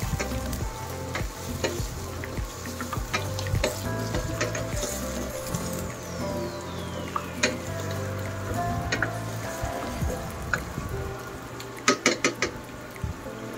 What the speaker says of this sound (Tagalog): haluin lang natin yung ating cherry tomato